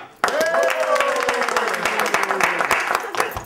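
Audience applause on a television drama set: a burst of sharp, fairly close clapping starts abruptly and continues steadily, with a voice speaking over it.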